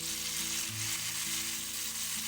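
Chicken pieces frying in a pan with Sprite poured in, giving a steady, loud, continuous sizzle and bubbling with no breaks and no voices.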